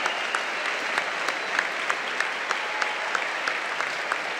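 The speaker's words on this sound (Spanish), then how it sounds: "Ellos solamente salen con aplausos." Audience applauding Special Olympics athletes at an anniversary event, steady sustained clapping with a few sharper individual claps standing out in a loose rhythm, moderately loud and unbroken.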